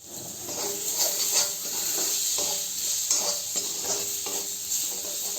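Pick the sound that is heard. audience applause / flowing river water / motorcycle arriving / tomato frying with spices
tomato frying with spices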